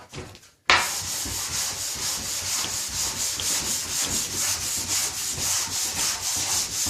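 Close, brisk sanding on wood, fast regular back-and-forth strokes rasping steadily after a brief quiet start.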